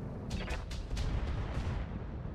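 Weapons fire in the mech combat game RogueTech, a loud burst of several overlapping booming shots over rumbling low-end noise, clustered in the first second and then trailing off.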